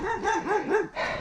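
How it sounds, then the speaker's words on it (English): A dog barks several times in quick succession at close range on a bridleway near Exeter Bike Park, the yips rising and falling in a quick rhythm. "Here comes the attack dog."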